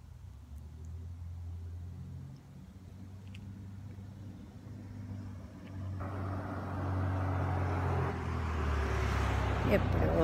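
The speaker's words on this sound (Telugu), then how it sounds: "లోపలికి వచ్చే కార్లు చప్పుళ్ళు వినిపిస్తాయి అంతే." Cars driving in, a low engine rumble that holds steady and then swells closer and louder over the last few seconds, with faint background noise throughout.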